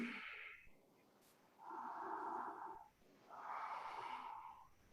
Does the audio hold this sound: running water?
no